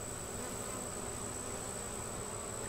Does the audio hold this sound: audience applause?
no